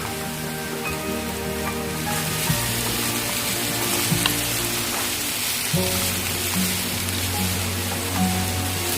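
Onions frying in a pan while being stirred, a steady crackling sizzle with occasional scraping and clinking of the spoon, no talking.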